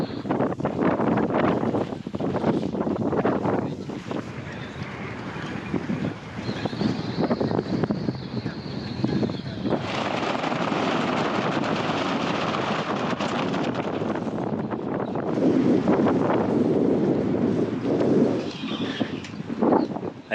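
Strong, strengthening wind buffets the microphone on a sailboat during a big 2024 Caspian Sea race with a sandstorm, a loud continuous rushing roar with gusty surges and no speech.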